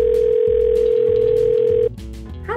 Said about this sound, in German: ich werde es noch einmal probieren und sie auf ihrem Telefon anrufen